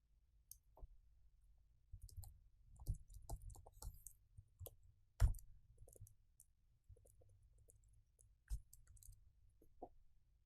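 Sparse, quiet clicks of keys on a computer keyboard as code is entered, irregular single taps spread over several seconds with one sharper click midway, close but soft.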